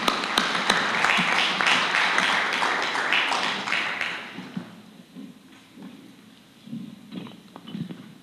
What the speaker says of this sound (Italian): facciamo un applauso di benvenuto